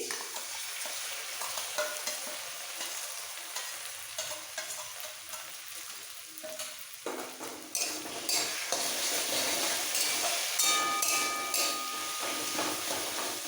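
Poppy seed and green chili paste going into a hot frying pan and being stirred, a soft sizzle that grows louder and brighter midway, with spoon scrapes and light knocks against the pan, close by, no voices.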